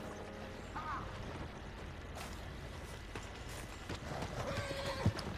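Horse hooves clip-clopping with a neigh in the video game Red Dead Redemption 2, moderately close in first person, alongside faint creaks and gear rattles, no talking.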